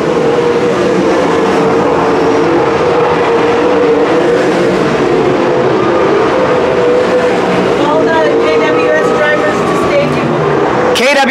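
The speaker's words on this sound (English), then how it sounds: "they'll complete lap number 11, just past the halfway point for Terry Schank" Wingless sprint cars roar around the dirt oval at Calistoga Speedway in a loud, steady engine drone during the main event, with a track announcer talking over the noise throughout.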